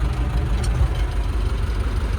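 A YuMZ-6 tractor engine runs steadily at idle, a deep, continuous low rumble close by with an even throbbing pulse and no speech.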